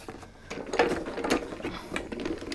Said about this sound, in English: So let's just grab that and run that through the machine really fast